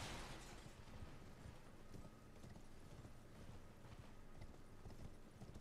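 Horse riding in Elden Ring, with quiet, continuous hoofbeats at a fast gallop under a faint wash of ambient noise, no voices present.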